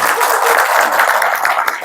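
Audience applause welcoming a professor to the stage at a business forum talk on quantum computing, a dense, steady wash of many hands clapping throughout, fairly loud and close.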